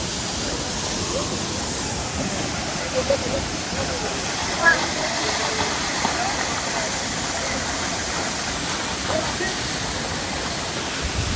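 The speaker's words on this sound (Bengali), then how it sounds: "পানির শব্দগুলো যা শুনুন, এত উঁচু থেকে পড়ার কারণে খুব শব্দ হচ্ছে।" Madhabkunda waterfall in Sylhet plunging from a great height makes a loud, constant roaring hiss close at hand, broad and unbroken, with a few faint knocks and a voice talking beneath the rush.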